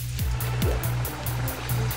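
Water being filled up in The Legend of Zelda: Skyward Sword, a close, continuous splashing and gurgling rush with a few soft popping bubble sounds over a low looping tone.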